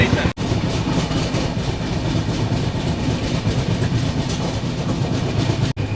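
Kalinga Utkal Express passenger train running on rails, a steady loud rumble and rattle heard from inside the moving coach for several seconds without a break.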